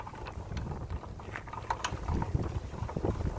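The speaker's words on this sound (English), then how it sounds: "A little Vaseline will fix that, a little brush. And cranks real easy." Hand crank on a small boat being turned, giving faint mechanical clicks and rubbing scrapes in an uneven rhythm, close by and low in level.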